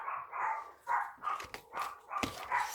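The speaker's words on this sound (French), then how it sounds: "Ça, c'est les chiens qui aboient." Several dogs barking in quick repeated bursts, moderately distant, with short yips between the barks.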